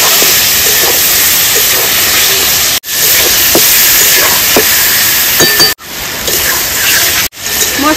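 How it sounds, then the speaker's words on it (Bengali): Marinated rohu fish frying in hot oil in a village kitchen, a loud, dense, continuous sizzle with brief dips as it is stirred. "এবার দিয়ে দেবো ম্যারিনেট করে রাখা মাছটা। আমি 2 মিনিট একটু নেড়ে চেড়ে নেব সুন্দর করে।"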